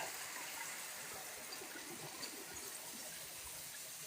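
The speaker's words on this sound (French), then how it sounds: "On va venir rajouter de l'eau." Water pours steadily into a cooking pot while making Guinean riz gras with tender meat, a continuous close splashing gush with no talk over it.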